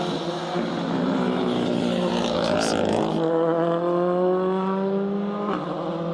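A Triumph TR7 V8 rally car runs on a circuit rally stage, its V8 engine droning loudly and shifting pitch as it revs and changes gear, passing close with a sustained roar.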